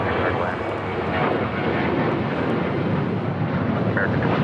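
A heavy Boeing 767 on short final at LAX roars overhead on landing with a loud, broad, continuous engine rumble, heard close with talk faintly underneath.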